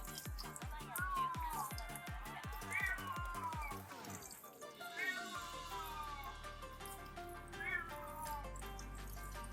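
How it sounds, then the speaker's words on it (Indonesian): Several cats meow repeatedly at an outdoor car wash, rising and falling calls near and far, with rhythmic tapping, running water and people talking in the background. "BTW maaf ya kalau ada suara kucing, sini banyak kucing."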